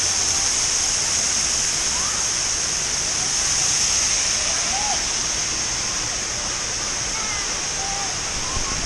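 Constant loud roar of a waterfall fills the space, a steady wash of rushing water with faint bird-like chirps above it.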